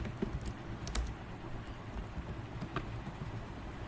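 Quick, soft clicks of typing on a computer keyboard at close range during JavaScript coding, a few brief light keystrokes over a steady room hiss.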